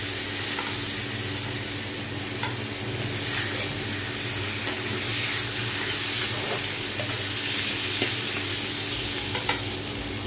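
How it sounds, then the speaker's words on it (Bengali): Potato pieces frying in hot oil in a pan for a Bengali cauliflower-pumpkin-bori curry give a continuous loud sizzle with a bright hiss, broken by occasional stirring scrapes and clicks, close and steady without talk. "তো এখানে আমি যে আলু ফার্স্টে দিয়ে দিচ্ছি, আলুটা ভেজে নেব।"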